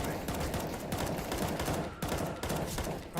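Rapid gunfire in a competitive shooter video game, a dense fusillade of overlapping shots and bursts crackling steadily throughout at moderate level, with a brief lull near the end.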